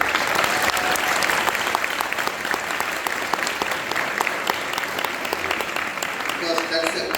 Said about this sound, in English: can we all applaud the sound engineering by Jyothi and Anand?